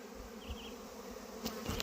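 A honeybee swarm buzzing around a treehouse homestead, a faint, continuous hum of many bees heard from a short distance with a few nearer passes.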